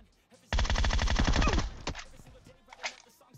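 Rapid automatic gunfire from a costly rifle in the battle royale game PUBG Mobile, a dense loud burst of about a second with a few scattered single shots and faint game sounds trailing after.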